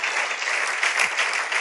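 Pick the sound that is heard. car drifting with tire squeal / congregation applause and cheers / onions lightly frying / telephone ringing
congregation applause and cheers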